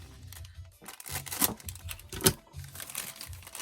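Cutting open a Funko toy blind bag package, with crinkling plastic and short snipping bursts, close and fairly quiet.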